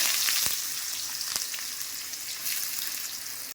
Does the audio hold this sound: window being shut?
no